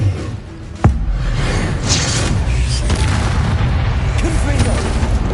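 An Incendio fire spell blasting in the Hogwarts Legacy video game, opening with a sharp loud crack followed by rumbling bursts and whooshes under continuous game noise, with a voice speaking briefly.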